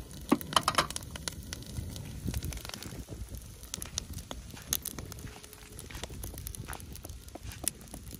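An outdoor fire burning under beef for grilling on a grassland, with crackling and sharp pops scattered irregularly over a soft low roar, fairly quiet and close.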